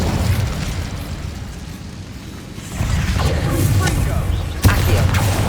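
In the video game Hogwarts Legacy, an Incendio fire spell bursts into a loud fiery whoosh with a sharp impact pop partway through, surrounded by dense battle noise, with a voice calling out during the fight.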